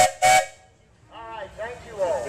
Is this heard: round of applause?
no